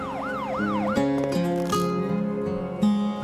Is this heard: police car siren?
yes